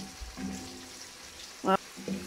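Okra frying in a pan for bhindi masala, a soft, steady sizzle close by, with brief clinks of a utensil against the pan and a little background voice.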